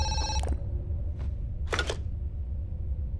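Telephone ringing in the Zoochosis video game: a tonal ring that cuts off, then brief clicking bursts over a low steady background hum.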